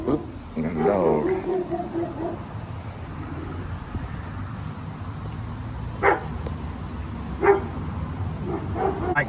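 A dog barks a few times in short bursts, a little distant, over steady rain-like background noise and a person talking.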